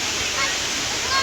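A waterfall in Kerala roars close by as a loud, steady wash of rushing water that fills the whole moment, with a voice faintly mixed into the noise.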